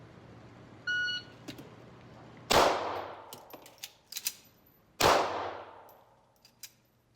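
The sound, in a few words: MAC9 DS Comp pistol firing remanufactured ammo at range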